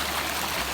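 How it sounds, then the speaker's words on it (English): Creek water flows steadily in a broad, continuous rush at close range along a backcountry trail crossing, with no voices. "I have to go over the creek"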